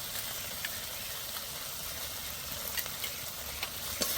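Coriander paste masala with whisked sour yogurt sautés for a rohu fish curry, giving a steady low sizzle with occasional soft clicks and scrapes of stirring.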